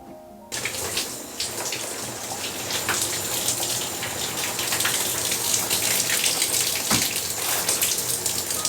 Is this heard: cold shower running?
yes